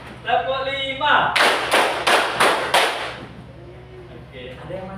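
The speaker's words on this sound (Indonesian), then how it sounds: "Tepuk 3, tepuk 2, tepuk 1, tepuk 4, tepuk 3, tepuk 5" A group claps in a counted rhythm pattern during a lesson, five sharp, evenly spaced bursts of clapping between stretches of a voice giving instructions before and after.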